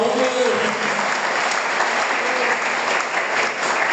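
A church congregation at a Holy Family feast Mass claps loudly and continuously for couples married fifty years, a dense, even wash of applause with no spoken words.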